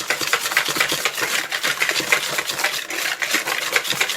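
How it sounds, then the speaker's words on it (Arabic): Cookie dough for melt-in-the-mouth cocoa ghriba being stirred and mixed with sugar in a bowl, a steady run of close scraping and clinking strokes with no talk. "نخلطها مليح"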